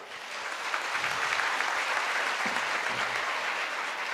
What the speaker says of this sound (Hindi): उतनी जोरदार तालियां होनी चाहिए